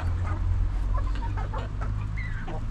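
A small Sultan chicken clucks in short soft bursts over a low steady background hum, close by with no talk.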